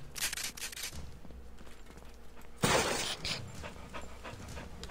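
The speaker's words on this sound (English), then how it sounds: "He makes the dog sounds when he dies." A video game character lets out panting, dog-like whimpers while dying amid combat, followed by a sharp burst of gunfire or shattering noise, loud and close in the game mix.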